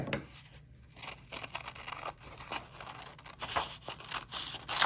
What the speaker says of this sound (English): I'm just gonna tear it, but you can cut it with your scissors if you like.